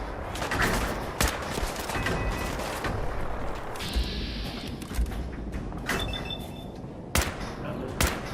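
Gunfire and grenade blasts crackle through a Fallout video-game firefight, with steady dense shots and several louder thumping bangs scattered through the clip.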